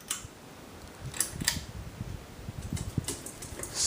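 A 42-inch SMC Scandinavian ceiling fan, somewhat beat up, whirs softly as its blades spin down after being switched off, with faint irregular ticking and clicking over a steady low hum.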